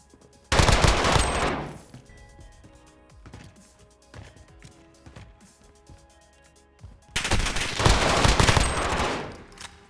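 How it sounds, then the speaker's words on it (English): An MP5 submachine gun fires in Modern Warfare, with two loud, rapid automatic bursts roughly six seconds apart and quieter clicks and scattered shots between them. "The MP5 feels so nice in this game. Oh my goodness. And the gun sounds, oh, they are so nice as well."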